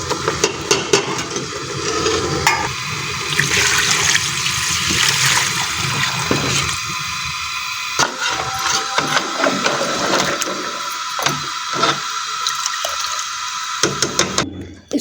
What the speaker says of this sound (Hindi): अब इसमें यखनी डालेंगे।